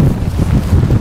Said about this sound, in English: This is where the wind's coming from, clearly.